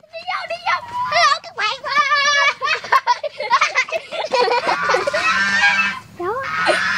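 Geese honking loudly and repeatedly during a goose riding challenge, with excited children shouting and talking over the calls in an outdoor setting.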